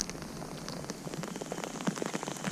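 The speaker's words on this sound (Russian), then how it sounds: "Дождь с градом." Rain patters steadily on a surface, with scattered sharper taps of hail or heavy drops, fairly close and continuous throughout.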